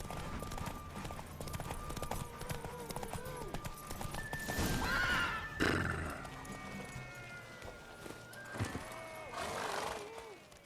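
Rapid hoofbeats of a galloping horse in the video game The Witcher 3 run throughout, broken by two loud whinnying neighs, with faint voices in the background.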